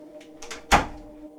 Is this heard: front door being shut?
yes